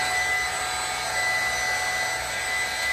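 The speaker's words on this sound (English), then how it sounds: "Remington vacuum hair clipper." Corded Remington vacuum hair clipper running close by, a loud, steady, broadband whirring hum with a constant suction hiss, uninterrupted throughout.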